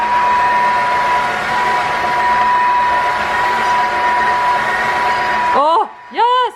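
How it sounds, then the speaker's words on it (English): Mooka S200 wet dry vacuum mop running loud and steady with a constant whine and broad rushing noise, then cutting off near the end as a voice exclaims. "Let's see if this vacuum can handle it."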